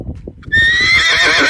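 Ponies neighing loudly in a sustained, shrill whinny that starts abruptly after a brief stretch of quieter low rumbling and carries on to the end.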